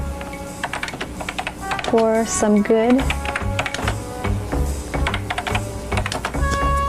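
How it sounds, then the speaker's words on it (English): Rapid, steady clatter of typing on a mid-1990s computer keyboard runs throughout, close and clear, while a voice speaks over parts of it. "You hear typing sounds?"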